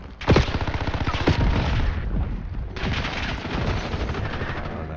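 Sustained gunfire in a video game roars as dense, rapid automatic volleys, loud and close, with a couple of sharp louder cracks standing out over the continuous barrage.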